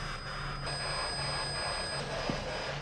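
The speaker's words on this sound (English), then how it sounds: "Here's the REM pod, you can hear it." A REM pod ghost-hunting device beeps in an abandoned school in Texas, giving a steady electronic alarm tone that switches pitch partway through, close and moderately loud over a faint room hum.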